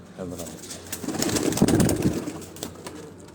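Pigeons coo on a rooftop, soft throaty murmuring calls that swell in the middle and fade, close by, with a few clicks and light background noise.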